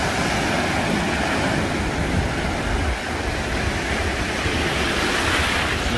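Ocean surf on Isle of Palms beach in Charleston, a continuous loud broadband wash of breaking waves, steady throughout with no speech.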